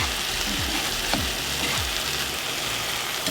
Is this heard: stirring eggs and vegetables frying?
yes